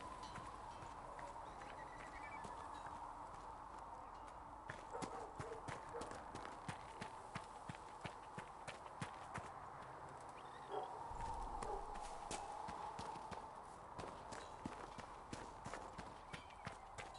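Horse hooves clip-clopping in Dragon Age: Inquisition, a steady rhythmic series of sharp hoof knocks at an unhurried walk, fairly quiet and close, with a faint background bed beneath.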